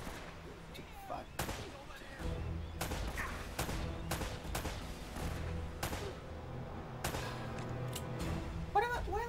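Gunshots in Uncharted: Drake's Fortune ring out as a string of sharp, irregular cracks, some in quick pairs, over a steady rumbling game background.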